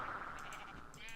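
A sheep in the Minecraft video game, kept on a wool farm, lets out a clear bleat up close, a short wavering call standing alone.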